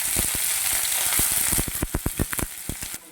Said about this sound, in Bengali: পেঁয়াজ কুচি করে রেখেছিলাম তা দিয়ে দিচ্ছি।